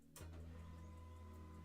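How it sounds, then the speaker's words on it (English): A laser printer whirs to life with a sharp mechanical start, then settles into a steady humming drone as it feeds and prints, close by. "my printer just started up and it's printing"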